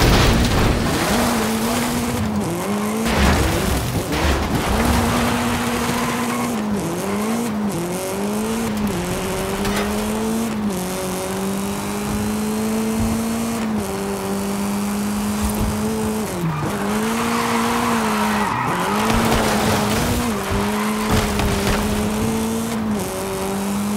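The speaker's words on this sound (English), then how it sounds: "Masterful drift by Toro Loco!" Car drifting in Forza Horizon 5 during a Lucha de Carreteras race, engine droning steadily while tires squeal continuously through long slides, loud and close with roaring wind and road noise.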